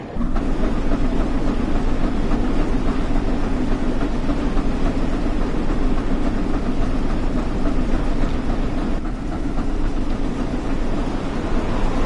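A high-speed train passes in the Train Sim World 6 Great Western remaster, a loud, steady rumbling roar of wheels and engine that holds throughout without a break.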